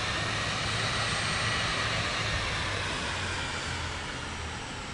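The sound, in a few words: aircraft taxiing in Microsoft Flight Simulator 2024 video game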